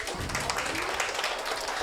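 Applause from an audience at a children's municipal council installation ceremony, dense steady clapping throughout.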